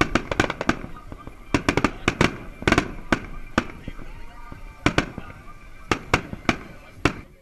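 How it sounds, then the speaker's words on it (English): A fireworks show bursts in sharp, irregular bangs and crackles, some in quick clusters and others spaced apart, fairly loud and distant-sounding against a quiet background. "And tonight, a little bit of a fireworks show."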